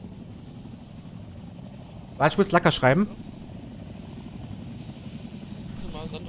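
A helicopter drones steadily in the Arma 3 video game, a constant low engine and rotor rumble throughout, with someone speaking briefly over it.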